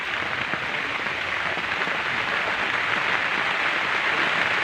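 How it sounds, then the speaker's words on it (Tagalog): Heavy rain pouring in mountain country, a dense, steady hiss of drops with no breaks, close and fairly loud, alone without voices. "Kusog-kusog na pud uwan. Grabing uwan dire karon nga bukid."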